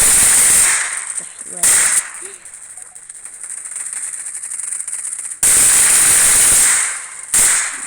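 Desert Eagle pistol shots in the video game Combat Arena, loud sharp bursts at the start and again late, with a quieter stretch between and someone talking over it.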